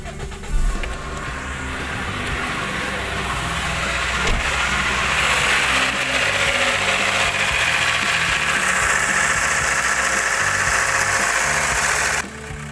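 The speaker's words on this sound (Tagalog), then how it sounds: "So maingay yung makina niya pag start, no?" A worn first-generation Toyota Vios engine cranks and catches near the start, then settles into a loud, steady idle with a rough, knocking mechanical clatter, running continuously until an abrupt cut near the end.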